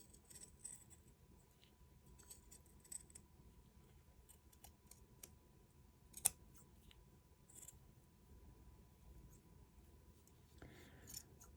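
Scissors snipping carefully around felt embroidery work with French knots, a few faint, quiet cuts scattered across an otherwise hushed setting.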